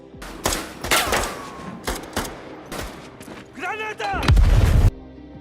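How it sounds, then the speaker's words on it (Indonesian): Gunfire in a gangster action film: sharp, loud shots in uneven bursts with brief pauses, ending in a heavy, sustained blast, alongside other film sounds. "Baku tembak pun kembali terjadi."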